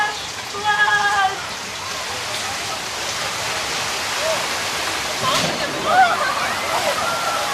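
Rushing water from a staged flash flood on the Universal Studios Hollywood tram tour, recycled water released from big tanks down a hill, a steady broadband roar with cheers and voices over it.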